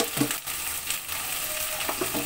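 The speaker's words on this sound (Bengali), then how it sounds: "মশলা আর মাছ আলু সহ ভালো করে কষিয়ে নিয়ে" Spices frying in a pan with fish and potatoes give a steady, close sizzle with light stirring scrapes throughout, and no one speaks.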